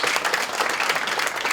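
An audience at a KDBC Christian broadcast event applauds eleven people being honoured, a loud, dense burst of clapping from a full room that fills the short moment.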